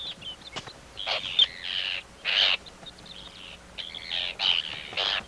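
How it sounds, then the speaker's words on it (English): An Arctic tern calls while attacking an intruder near its nesting territory, giving repeated harsh, high-pitched screeching cries in short bursts over a rough background of wind and handling noise. "an Arctic tern."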